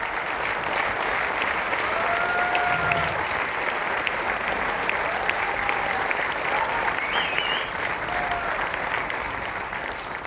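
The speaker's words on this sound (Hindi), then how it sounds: "तालियां रुकनी नहीं चाहिए।" Prolonged applause from a crowd greeting Dr. Jayesh Patel, steady and full throughout, with faint whistles or voices rising briefly above the clapping.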